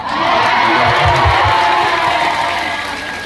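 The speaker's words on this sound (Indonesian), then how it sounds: "Berikan tepuk tangan, boleh" Applause and cheering from a crowd at an Islamic religious lecture in Taiwan, a loud, steady wash of clapping with some shouts, filling the whole stretch.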